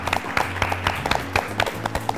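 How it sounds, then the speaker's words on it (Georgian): An audience at a student quiz-show semifinal claps for the Free University team, giving a steady burst of close, dense applause that lasts the whole moment. "ხურვალე აპლოდისმენტები თავისუფალი უნივერსიტეტის გუნდს ინდიაურა"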